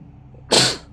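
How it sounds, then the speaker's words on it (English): A single stifled sneeze, a short sharp burst of breath from someone seated near the microphone, loud and close, rising suddenly out of near silence and tailing off quickly with no talk around it. "Almost sneeze."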